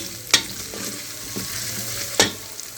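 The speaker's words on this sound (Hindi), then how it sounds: "इसको 2-3 मिनट भूनना है ताकि लहसुन अदरक की स्मेल ख़त्म हो जाए" Garlic and ginger frying with browned onions in a pan, a soft continuous sizzle broken by two sharp scraping stirs of a spoon against the pan.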